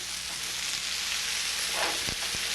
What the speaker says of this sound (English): And we'll saute this.